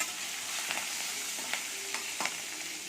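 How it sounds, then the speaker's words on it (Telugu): Green chillies and curry leaves fry in a pan with a soft, continuous sizzle, and a few light scrapes and clicks of stirring break through at intervals. "రెండు పచ్చిమిర్చి కరివేపాకు వేసి ఒకసారి బాగా కలపాలి"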